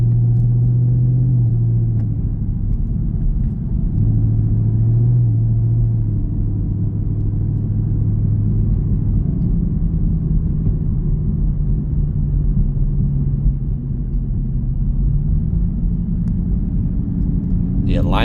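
A 2019 Chevrolet Camaro ZL1 fitted with a Corsa intake rolls over a bumpy road, giving a steady, close, low cabin rumble and engine drone that stays loud throughout.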